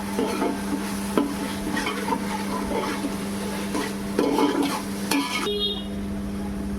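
Masala frying in a pan for home-style pulao, a steady broadband sizzle with scraping stir strokes and a few utensil clinks, and a louder clatter near the end.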